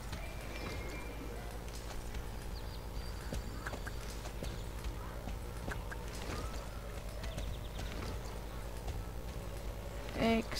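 Horse hooves in the Star Stable video game clip-clop steadily at a walking pace over a busy background, moderately near, with a brief louder burst near the end.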